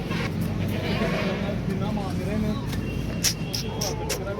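Goats bleat at a busy goat market, the wavering calls rising over crowd chatter and traffic noise while someone talks nearby.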